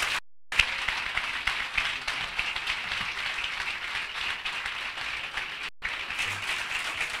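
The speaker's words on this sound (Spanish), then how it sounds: "Un aplauso para el Padre." An audience at a religious gathering gives a moderately loud, sustained round of applause, broken by two short silent dropouts.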